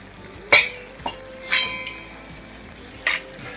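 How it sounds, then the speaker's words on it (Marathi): Hot water is poured into roasted bhagar (barnyard millet) in a pan, giving several sharp sizzling bursts spaced a second or so apart, with quieter hissing and faint utensil clinks between them. "तर आता यामध्ये गरम करून घेतलेलं पाणी घालायचं"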